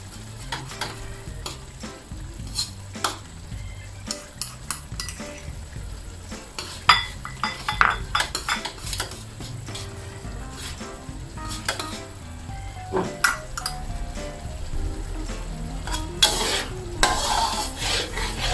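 Tamarind sauce with oyster sauce and melted sugar simmering in a pan, stirred briskly with a utensil that scrapes and clinks repeatedly over a continuous sizzle, close and fairly loud, no speech.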